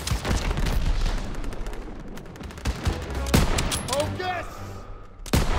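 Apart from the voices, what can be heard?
gunfire in video game Call of Duty WWII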